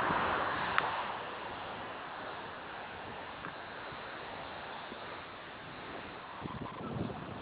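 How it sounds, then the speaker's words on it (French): Strong, very cool wind at sea off Nice roars as a steady, loud broadband rush, with the wash of water and waves beneath it and no talk. "Il y a un phénomène de vent tiré assez fort, très frais, vraiment bizarre."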